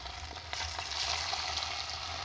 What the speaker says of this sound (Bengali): এবার আমি কুরকুরেগুলো একটু একটু করে আমি তেলে ছাড়বো।